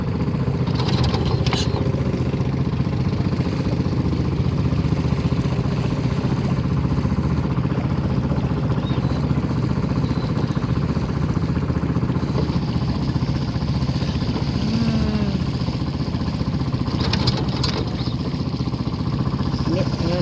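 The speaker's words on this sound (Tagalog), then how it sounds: "Inimandar ang makina namin." A motorcycle engine runs at a steady, continuous idle after being started, its low rumble constant throughout with people talking nearby.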